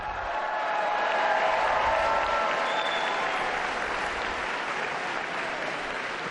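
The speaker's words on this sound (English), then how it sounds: "Encouragement from the crowd as the Pope makes his way slowly but surely." A large indoor crowd in the Paul VI audience hall at the Vatican applauds Pope Francis with dense, sustained clapping, a steady wash of hands that swells slightly and holds at a constant level.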